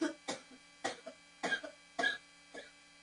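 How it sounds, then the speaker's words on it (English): A baby coughs in a series of short, soft bursts, about six in a row, fairly close with no talking. "my baby coughing"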